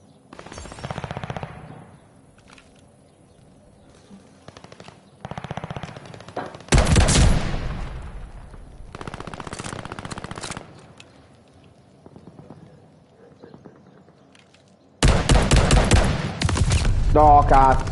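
Gunfire in the Call of Duty Vanguard video game, with several bursts of rapid automatic fire and single shots that come and go, each loud and sharp, separated by quieter gaps.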